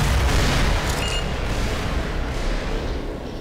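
Sustained heavy gunfire and explosive booms in the Black Mesa video game, a dense, loud rumbling barrage that runs continuously and fades slightly toward the end.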